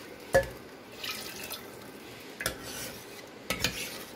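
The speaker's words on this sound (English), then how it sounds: "Stir it. Add in water if dal is too thick." A spoon stirs boiled dal in a metal pot, making a few sharp clinks against the pot with soft, wet stirring between them, close and quiet with no talking.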